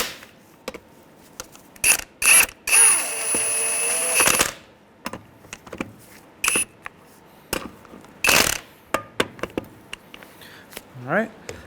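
A ratchet with a 19 mm socket snugs up lug nuts on a 2003-2011 Honda Element, giving bursts of rapid close clicking between clanks of metal, with a squeaky whine partway through.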